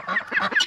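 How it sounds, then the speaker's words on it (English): Baby guinea fowl calling on a farm, giving a quick run of close, shrill, honking chirps in a brief burst. "We've even got some baby guineas that got out of."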